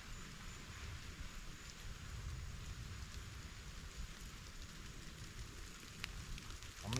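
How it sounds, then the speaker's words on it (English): Rain falls steadily and fairly softly outdoors in the woods, a continuous patter of drops on surfaces with a few sharper ticks and no voices. "A lot of rain."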